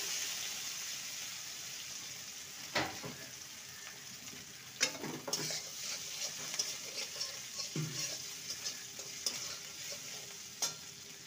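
Chopped green chilli and grated ginger sizzle softly in a pan while a spoon stirs them, with several sharp knocks and scrapes standing out over a low, quiet frying hiss and no one talking.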